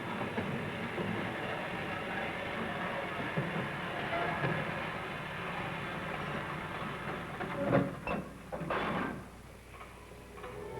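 A Norfolk & Western freight train rolls down a classification hump in a rail yard, a faint, distant steady rumble with a rhythmic ticking of wheels over rail joints and a few louder clanks near the end.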